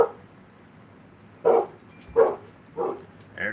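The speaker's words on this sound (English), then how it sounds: "There goes the dog." A dog barks indoors, one sharp bark followed by four more spaced about a second apart, moderately loud and close, with no talk over it.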